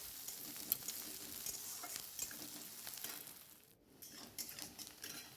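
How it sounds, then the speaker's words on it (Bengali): Onion fries in a pan with a faint, continuous sizzle and light crackling, dipping briefly before picking up again. "পেঁয়াজটা ভালো করে একটু ভেজে নেব"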